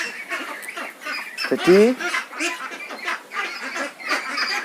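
Ducklings on a duck farm give a short burst of shrill peeping calls while being vaccinated one by one, close by and brief, with someone talking over and around them.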